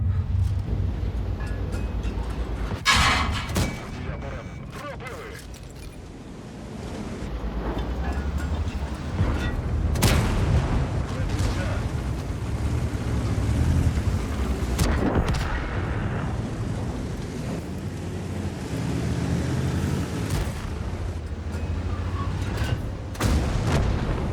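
Tank cannons fire in the World of Tanks video game: several heavy, booming shots spaced seconds apart over a constant rumble of engines and battle noise.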